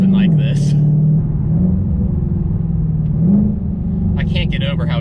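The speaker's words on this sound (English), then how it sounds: "I can't get over how good those downshifts sound." A 2020 Ford GT500 with a 760 hp engine revs loudly and continuously from inside the cabin, its pitch dipping and rising in rev-matched blips as it downshifts, with a brief higher whine near the end.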